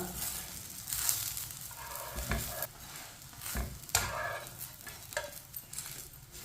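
A paratha frying in a pan, giving a steady low sizzle broken by several sharp scraping and stirring knocks near at hand.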